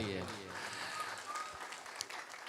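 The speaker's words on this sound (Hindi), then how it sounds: "तो ताली बजे टीचर के लिए" A school audience at a mothers' celebration in Rajkot claps for a teacher, a soft, steady patter of many hands heard from a distance, with a voice speaking over it near the start.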